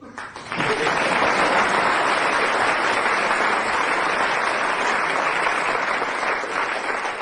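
A studio audience at a comedy panel show breaks into loud, enthusiastic applause for a late arrival, clapping swelling suddenly after a quiet start and then staying full and steady.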